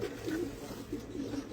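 Pigeons coo in soft, low, rolling phrases, close by and steady over a bed of faint room noise, with two or three burbling coos following one another.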